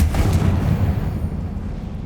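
Confringo fire spell from Hogwarts Legacy, a loud booming blast with a deep rumbling tail that slowly fades over about two seconds, heard alone without speech.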